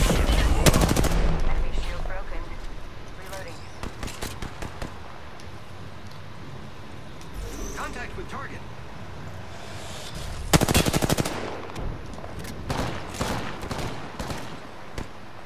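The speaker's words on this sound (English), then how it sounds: "I am taking fire" Apex Legends gunfire comes in rapid automatic bursts, loud and close, with sharp rattling volleys separated by short pauses and scattered single shots across the stretch.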